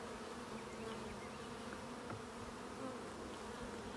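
Honey bees hum in an opened Layens hive, a faint, steady droning buzz with a low tonal hum and no speech.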